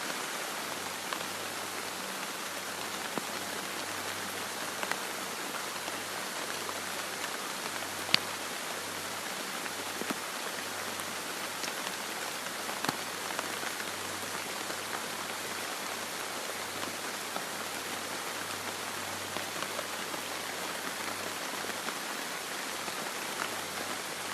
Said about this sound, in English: Can you hear that rain? It's hitting these like cabbage leaves.